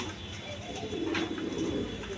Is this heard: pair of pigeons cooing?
yes